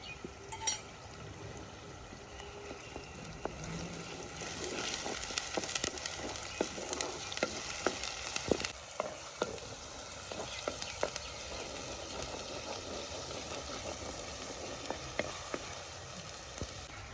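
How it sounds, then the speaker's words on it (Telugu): Green chillies and curry leaves fry in a pan with a quiet, continuous sizzle. Occasional clinks and stirring taps from a spoon against the metal stand out on top. "ఇప్పుడు పచ్చిమిరపకాయలు కరివేపాకు కూడా వేసుకొని వేయించుకోవాలి"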